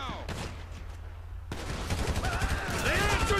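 Gunfire in the video game Grand Theft Auto V, bursts of rapid shots in a chaotic firefight, with voices shouting over the shooting as it builds louder toward the end.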